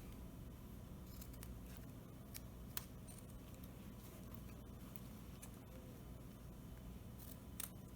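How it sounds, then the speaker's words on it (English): Fabric scissors trim the excess end of a zipper on a sewn zipper pocket, giving a few faint, sharp snips over quiet background hiss. "You can trim the excess zipper of the zipper pocket."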